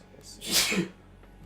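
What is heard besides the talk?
sneeze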